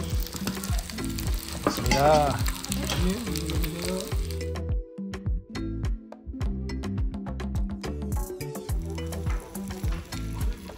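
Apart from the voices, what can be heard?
sizzling bibimbap in hot stone bowl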